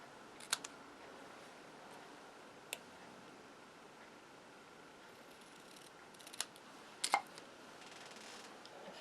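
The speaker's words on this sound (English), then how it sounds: "I'm going to snip off." Small craft snips cutting card paper, a few quiet, sharp snips scattered over a near-silent background, spaced irregularly with one double cut near the end.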